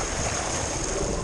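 A Honda motorcycle engine idles fully submerged, breathing through a snorkel, giving a steady, loud, broadband rush like churning, bubbling water with no clear rhythm and no voices.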